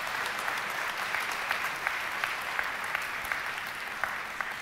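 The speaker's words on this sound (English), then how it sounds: "I feel like people weren't sure if they were supposed to clap or not right there." Audience at an Nvidia Gamescom presentation claps steadily, a moderate even patter of applause heard at a distance, lasting throughout without talk.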